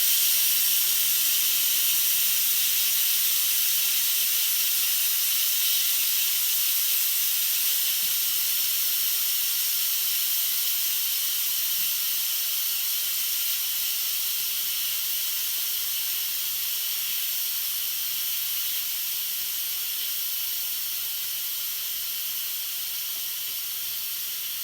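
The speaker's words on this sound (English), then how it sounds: "And this is going to release all of the steam." A steady, loud hiss of steam venting from an Instant Pot pressure cooker, bright and constant throughout with a slight fade toward the end, no voices.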